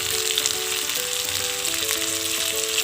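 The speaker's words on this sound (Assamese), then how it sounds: "আৰু অলপ ভাজি দিম, তাৰপিছত হৈ যাব।" Chicken leg pieces fry in a pan with a steady, loud sizzle and crackle that runs unbroken from start to finish, with no voices over it.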